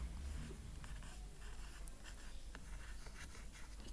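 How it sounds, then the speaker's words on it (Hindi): A pen writing by hand on paper, likely worked through a matrices and determinants exercise, with soft, faint scratching strokes over a steady low background hum. "नीचे आपने बस लिख देना है दस प्रूफ दैट"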